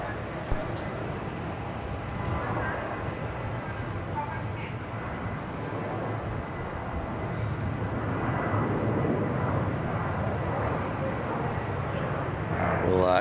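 A jet airliner departs at Melbourne Airport, its broad, steady engine roar rising slowly to a peak toward the end, heard from a terminal viewpoint with talk over it.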